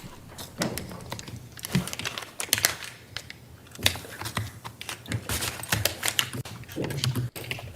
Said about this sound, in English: Aggressive typer is back.